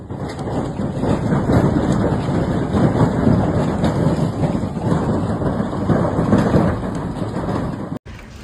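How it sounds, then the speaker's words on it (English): Heavy hail in Johannesburg, South Africa, pounds rooftops in a dense, loud, relentless clatter like gunfire with a deep rumbling undertone, then cuts off abruptly near the end. "It sounded like gunfire as the heavy hail hammered against rooftops, windshields"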